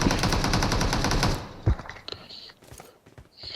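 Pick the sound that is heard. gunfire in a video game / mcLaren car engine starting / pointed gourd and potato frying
gunfire in a video game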